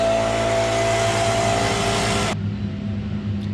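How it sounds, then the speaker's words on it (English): A leaf blower runs nearby with a loud, steady roaring whine that cuts off abruptly partway through, leaving a fainter low hum behind. "Sorry about the leaf blower."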